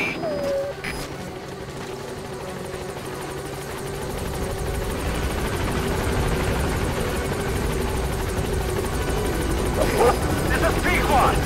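A helicopter in the Metal Gear Solid V video game arrives at a landing zone, a steady rotor drone that slowly grows louder and nearer, with a radio voice speaking over it.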